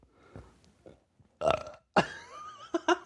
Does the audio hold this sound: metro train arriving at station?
no